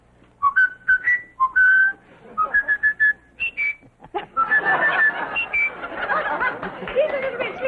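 A man whistles a short, quick melody for a game-show studio audience in bright, sliding notes, followed by a longer phrase as audience laughter and chatter swell underneath.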